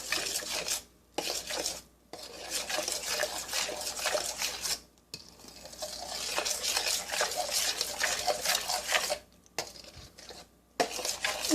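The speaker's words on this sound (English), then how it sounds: "Now you're going to go ahead and mix this all together" Vegan banana pancake batter is mixed in a bowl, giving a continuous close scraping and stirring sound with a utensil against the bowl, broken by a few brief pauses, with no talking.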